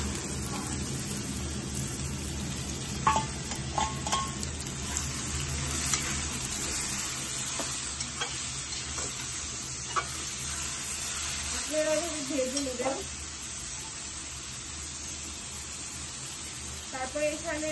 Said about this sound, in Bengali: এইভাবে ঢেলে দিচ্ছি তেলের মধ্যে দিয়ে এটাকে ভালো করে মিক্স করে ভেজে নিব